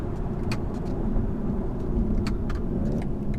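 A 2021 BMW 420i coupe driving, heard from inside the cabin with its artificially enhanced engine sound: a steady, loud engine drone and road rumble, with no voices.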